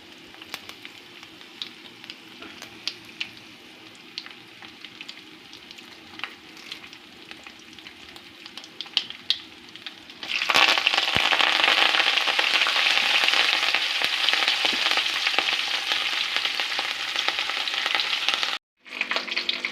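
Cumin, mustard seeds, chana dal and garlic hit hot oil for a tempering, quiet stirring first, then a sudden loud, steady sizzle that carries on close and unbroken until it cuts off near the end.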